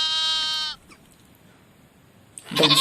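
Sheep bleat in one loud, close, wavering call with a bright harmonic tone, followed by near silence and then a burst of harsher noise at the end.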